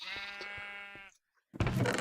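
Sheep bleating in the Minecraft modpack Agrarian Skies: one long, wavering bleat fills the first second, then a short silence before a burst of other game noise.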